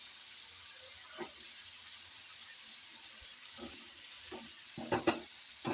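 Masala sizzles steadily in a pan as seekh kababs go in, with soft clatters and scrapes of stirring rising near the end.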